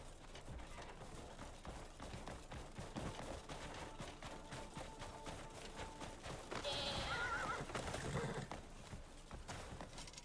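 A male snow goat in Crimson Desert lets out a horse-like neigh over a bed of game ambience, with clopping hoofbeats and a brief whinnying call near the middle.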